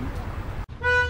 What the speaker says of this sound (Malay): tu bunyi horn